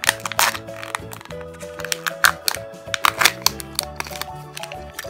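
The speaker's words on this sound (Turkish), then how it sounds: "O halde hemen açmaya başlayalım. İlk önce Kinder Joy kızlara özel sürpriz yumurtayla başlıyorum." A Kinder Joy surprise egg package for girls being opened, with sharp crinkling and tearing of plastic wrapper in quick irregular bursts, close and loud, over background music.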